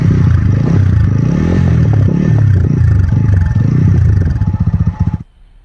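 A new motorcycle engine idles close by and is revved in repeated rising and falling bursts. It ends in a few chugging pulses before cutting off into near silence.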